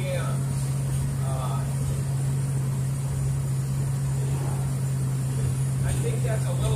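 A Ford Fairlane cruising at 55 mph at about 2,000 RPM, with 15-inch rear tires, gives a steady low engine drone and road rumble that fills the whole stretch, heard from inside the car.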